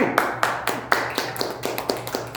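A handful of sharp, spaced claps ring out in a loose rhythm from a small church congregation, sounding like a small group applauding rather than a large crowd.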